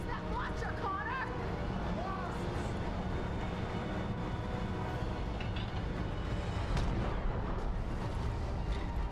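A rocket launcher fires in a Terminator Salvation PS3 battle, with heavy booming blasts under constant combat rumble. Voices shout throughout.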